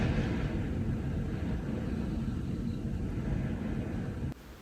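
Strong winter wind in Iceland heard from inside a house that is not soundproof, a steady loud low roar and rumble throughout with no voices, dropping off abruptly near the end.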